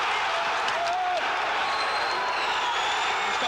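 A boxing crowd on its feet roars in a steady, dense wash of cheering and applause as one fighter is hurt, loud and continuous for the whole stretch with no break.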